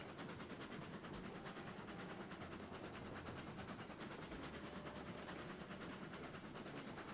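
Train in the Railroads Online video game rolling along at speed, a steady broadband rumble and rattle with faint rhythmic clicks, continuous and fairly quiet with no talk.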